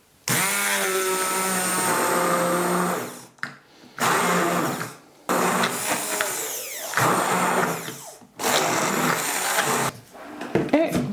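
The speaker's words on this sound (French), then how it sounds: "on va simplement, à nouveau, passer au mixeur" A kitchen blender whirs loudly, blending eggless garlic mayonnaise in bursts of a few seconds with short pauses between them.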